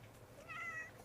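A cat at an animal shelter gives one faint, short meow against a low background hum.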